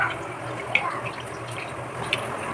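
Rice being washed under a running tap, a steady splash of water into a pot or sink with a couple of brief clinks, moderately close and with no talk over it.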